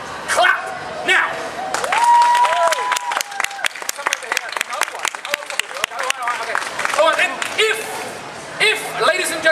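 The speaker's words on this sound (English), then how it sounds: "if you think I can do this, clap now" Crowd at a street show at the 2014 Adelaide Fringe Festival breaks into scattered, uneven clapping that builds and thins, mixed with high-pitched cheers, whoops and squeals from children and other voices throughout.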